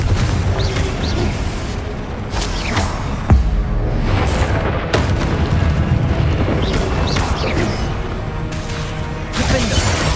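A Confringo fire spell in Hogwarts Legacy combat lands as loud, repeated booming blasts and crashes, packed densely together with a heavy rumbling game soundscape that never quiets.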